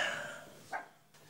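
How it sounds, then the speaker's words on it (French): A dog whimpers and yips in a short, fading cry followed by a brief sharp yelp, fairly close and alone without talk. "T'entends pas qu'il y a un chien qui pleure?"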